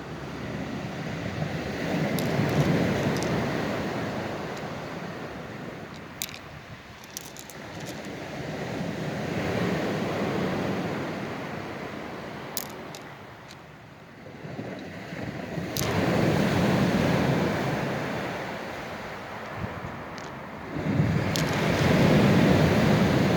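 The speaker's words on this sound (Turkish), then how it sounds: "Korkunç denizler etti." Rough sea waves surge and recede on a stony shore in slow, powerful swells, a continuous nearby roar of surf rising and falling in loudness.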